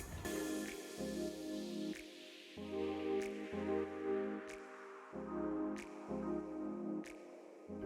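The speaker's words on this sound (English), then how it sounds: "I can rest it there and the solution can run back into the tank" Screen-cleaning solution runs off a screen resting on a drip shelf and falls back into a dip tank. It makes repeated squishy drips and splatters in an irregular rhythm, close and fairly quiet, with no talking.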